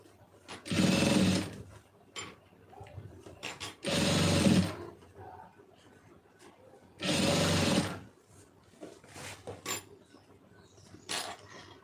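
A sewing machine stitches piping onto fabric in three loud, steady bursts, each about a second long, separated by quieter handling sounds and clicks.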